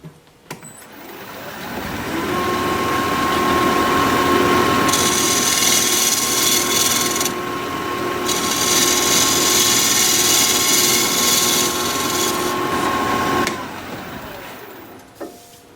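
Wood lathe turning a piece of apricot wood while its base is flattened, a steady motor hum with continuous tool-on-wood cutting noise that holds loud for about eleven seconds, briefly dips, then winds down.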